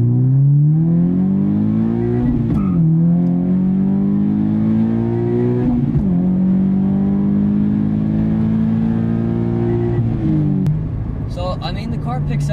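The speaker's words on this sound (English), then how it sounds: "Alright, here's a full throttle run 1st through 3rd." Subaru BRZ fitted with a Berk Technology exhaust pulls a full-throttle run from first through third gear, a loud sustained engine drone rising in pitch, dropping briefly at each of two upshifts, then easing off at the end.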